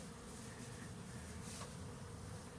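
Honey bees in a hive built inside an RV give off a steady, dense buzzing drone, close and continuous throughout with no talk over it.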